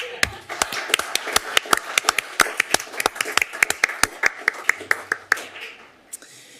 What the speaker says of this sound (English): Let's do an applause break.